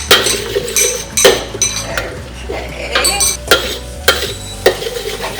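Egg is scrambled quickly in a hot wok for prawn fried rice, with sharp metal clinks and scrapes of a utensil against the pan at an irregular beat over a faint sizzle.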